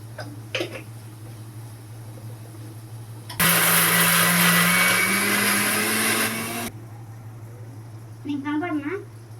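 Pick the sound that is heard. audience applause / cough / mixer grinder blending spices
mixer grinder blending spices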